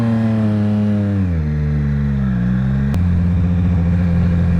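A motorcycle engine during city riding, a loud, steady droning hum whose pitch slides down as the bike slows, then holds at a lower drone after a brief click.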